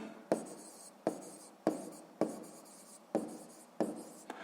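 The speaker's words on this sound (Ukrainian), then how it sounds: "Гаразд, записуємо відповідь." A maths answer for a sixth-grade exercise is written down by hand, about seven crisp, separate pen strokes in an uneven rhythm, close and quiet, with no talking.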